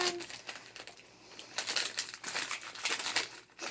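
Plastic packaging around a puzzle cube crinkles and crackles in irregular bursts of handling, close and fairly quiet, with no talking over it.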